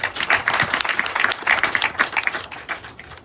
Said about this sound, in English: So please let's give Aditya a round of applause.